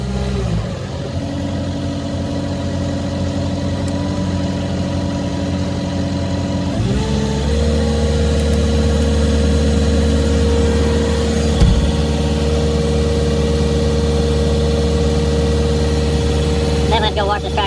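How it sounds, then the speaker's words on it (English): Steady rumble of a tractor engine running with a pressurized spray rig attached on a farm, a constant loud drone that shifts pitch slightly partway through, with faint hiss from the spraying. "So it's pressurizing, and we're spraying."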